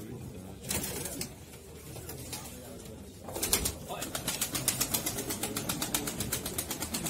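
Pigeons coo and flutter nearby in a steady, rhythmic chorus at a bird auction in Ankara, with a mechanical hum and occasional murmured voices in the background.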